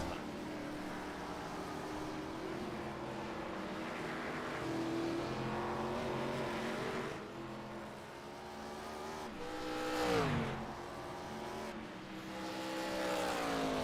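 Race cars on the Watkins Glen circuit in a racing video game howl past in a steady engine drone that rises and falls through gear changes, with one car sweeping by in a sharp pitch dip, played fairly quietly.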